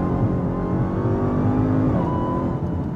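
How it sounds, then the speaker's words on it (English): A Dodge Charger Hellcat King Daytona with 807 horsepower accelerating hard, a loud sustained engine roar heard from inside the car with a rising pitch and a gear change near the end, alone without talk. "I think I was still spinning tires in what I'm sure was fourth gear"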